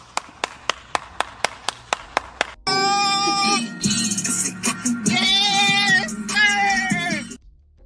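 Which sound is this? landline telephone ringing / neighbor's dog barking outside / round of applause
round of applause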